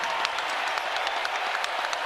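Brief steady applause and cheering from a basketball crowd at Rupp Arena during Kentucky against Ohio, a loud even wash of clapping with faint voices mixed in.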